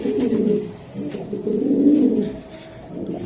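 Giribaz pigeons cooing nearby, low throaty rolling coos in two or three swelling phrases, loud and close with no speech.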